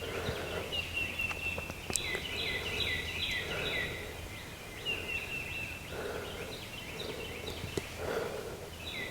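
A wild turkey gobbles repeatedly in rapid rattling bursts, fairly close and clear over quiet outdoor ambience on public land during a hunt, with no talking.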